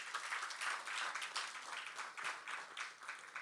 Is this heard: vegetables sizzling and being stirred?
no